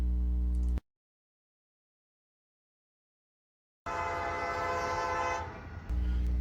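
Norfolk Southern freight train led by locomotives NS 5174 and NS 3228 passing through Bloomington, Illinois: a loud, steady rumble and rail noise close by, with a horn tone, broken by a long gap of silence mid-clip.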